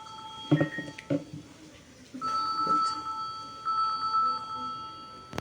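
A phone ringtone plays in repeated electronic tonal bursts, moderately loud and close, after a few brief clicks and knocks.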